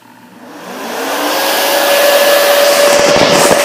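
A Flying Bear laser engraver switches on by touching two wires together, its fan rising into a loud, steady airy whoosh with a faint whine, close and alone.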